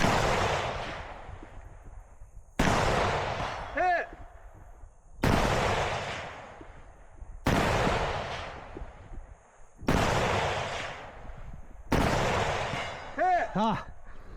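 Rifle shots on an outdoor shooting course: six loud, sharp reports spaced roughly every two and a half seconds, each rolling off in a long echoing tail, with brief voices between some shots.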